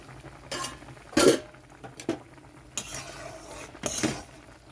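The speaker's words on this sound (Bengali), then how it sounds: "চাপাটা নামিয়ে নিচ্ছি।" A metal lid lifted off a cooking pot of boiling hog plums gives a few short clattering clinks and scrapes, spaced apart and fairly close, over quiet background.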